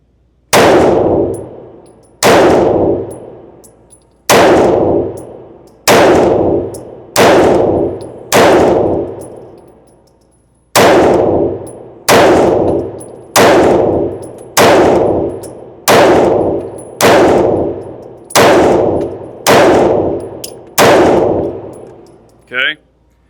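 Shots from a Shadow Systems CR920XP pistol strike steel targets, each sharp crack merging into a loud ringing clang that decays over a second, in a steady rhythm of about fifteen hits in groups with brief pauses.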